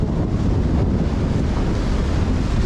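Stormy sea waves rolling onto the shore with a dense, continuous low roar, heavy wind buffeting the microphone close up and no distinct breaks between surges.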